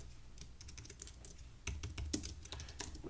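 Quiet, rapid clatter of keys on a computer keyboard while entering database commands, with irregular bursts of keystrokes and no talking.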